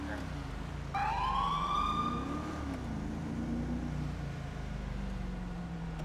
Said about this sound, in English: I'm gonna initiate a little bit of the siren.